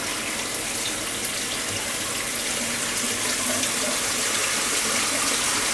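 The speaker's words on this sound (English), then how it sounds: "by having them in the water, they are going to get thoroughly rinsed off" Water runs steadily into a sink as produce is rinsed, a continuous, even splashing rush that holds at a constant level throughout, with no talking.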